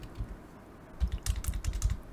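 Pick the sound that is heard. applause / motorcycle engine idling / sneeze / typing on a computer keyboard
typing on a computer keyboard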